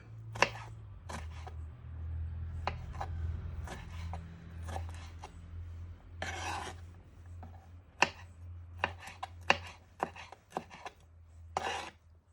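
Vegetables are diced with a chef's knife on a cutting board: sharp irregular knocks of the blade, some in quick runs and one longer scraping stretch, close and clear with no talking.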